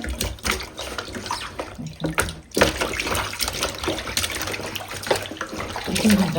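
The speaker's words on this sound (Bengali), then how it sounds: "কত সুন্দর করে পরিষ্কার করে ধুয়ে নিচ্ছি।" Live koi fish being washed under running water, a splashing, gurgling tap stream with sloshing and handling noises, steady and close, with brief muffled sounds mixed in.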